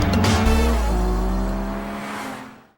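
A Hyundai Ioniq 6 N electric performance car drives hard, its synthetic engine-like drive sound rising and falling in pitch as it accelerates, loud and close, then cutting off abruptly at the end.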